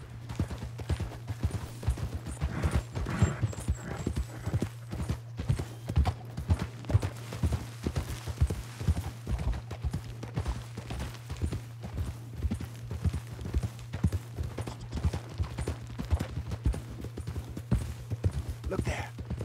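Steady clip-clop of horse hooves while riding in Red Dead Redemption 2, a continuous rhythmic trot over a low droning background, fairly close and even in loudness throughout.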